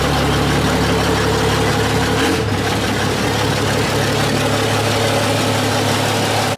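A diesel truck engine idles loudly and steadily, a deep rumbling drone that shifts slightly in tone partway through and continues throughout.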